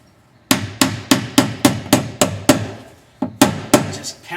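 A hammer strikes a part down into a UTV windshield fitting on a Pioneer 700, about ten sharp, close, evenly spaced blows with a short pause before the last few.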